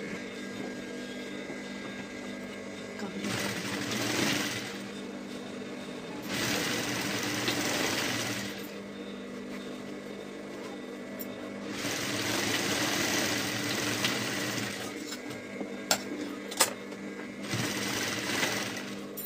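A sewing machine stitches piping around the neckline of a size 36 blouse, running in loud, steady bursts that stop and restart several times, with no talking.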